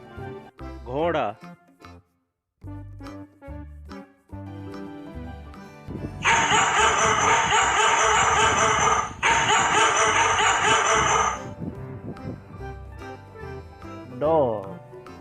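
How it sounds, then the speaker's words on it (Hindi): A dog barks in a dense, loud run of yips and woofs lasting several seconds, set over bouncy background music with brief vocal sounds before and after. "dog,"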